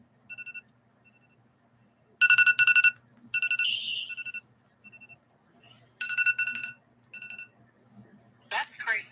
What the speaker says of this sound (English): I think I hear the alarm.